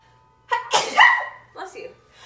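Several quick sneezes in a row, close and loud, with short gaps between bursts and no talking.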